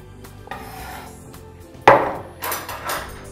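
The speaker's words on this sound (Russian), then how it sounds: "И теперь все это дело хорошенько переминаем вилкой." Fork mashing cottage cheese with fresh herbs and garlic in a bowl, quiet scraping at first, then a louder clack of metal on the bowl followed by a few soft squishing strokes.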